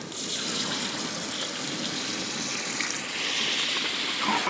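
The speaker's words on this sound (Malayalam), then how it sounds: "ഇത് നമ്മൾ വെള്ളം ഒഴിച്ച് കൊടുക്കുകയാണേ" Water streams into a pan of Kerala-style masala for oysters with tapioca, giving a steady pouring gush and wet bubbling that runs on without a break, moderately loud and close.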